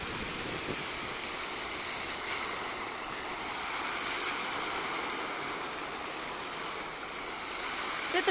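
The Seven Girls fountain near the opera and ballet theatre in Ufa splashes in a continuous, even wash of falling water, moderately loud and unbroken, with light wind noise.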